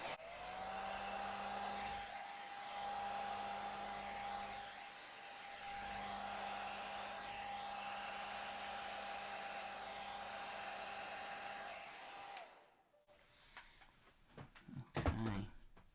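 Hair dryer blowing wet paint across a canvas during a Dutch pour painting session, a steady whirring drone held for about twelve seconds before clicking off, followed by faint handling noises.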